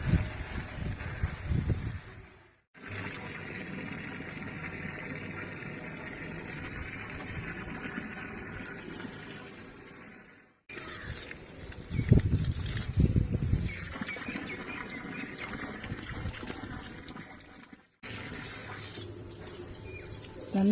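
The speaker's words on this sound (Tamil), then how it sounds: "தண்ணி நல்லா விட்டுருக்கு." Water pours steadily onto potted garden plants in long continuous gushing stretches, broken by two brief pauses, with splashing and patter on leaves and soil, close and fairly loud.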